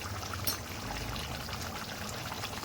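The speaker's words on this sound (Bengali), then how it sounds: "অল্প একটু ঘি দিয়ে দিচ্ছি" A small amount of ghee poured into simmering rohu fish kalia gravy, a soft brief pour over a low bubbling background, quiet and close.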